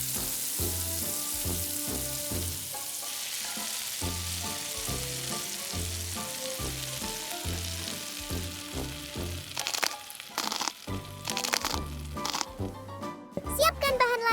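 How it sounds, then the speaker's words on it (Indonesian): Fish frying in hot oil sizzles with a steady bright hiss over a rhythmic thumping backdrop, with clatter and stirring noises building toward the end. "Saatnya goreng ikan."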